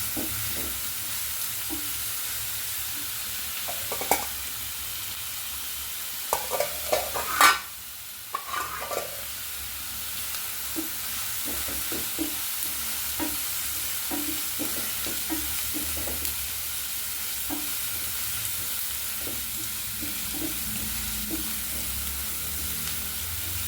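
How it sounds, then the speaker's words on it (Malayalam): Ingredients for a mutton curry fry with a constant soft sizzle in a pan while a utensil scrapes and stirs in scattered taps and clacks, close and quiet with no talking. "നന്നായി മൊരിയട്ടെ."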